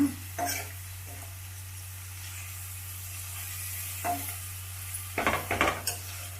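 A spoon scrapes and clinks against a pan while grated coconut and fresh coriander are stirred in for a Chikkadi Kai palya, a few sharp metal taps over a quiet low hum, with no voices.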